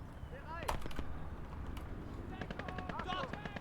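Bursts of gunfire and explosive HE shell impacts from a World War II strategy video game battle, some sharp cracks and rattling volleys, with a voice talking over the combat.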